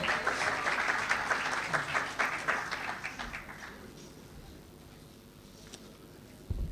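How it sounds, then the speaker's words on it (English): An audience at an awards evening gives a round of applause, dense and even at first, then thinning out and fading to a quiet room over several seconds. "A round of applause for Mr. Gordon."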